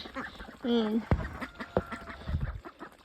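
Magpie and Rouen ducks give a short, nasal run of quacks close by, with a couple of sharp knocks and a person talking around them.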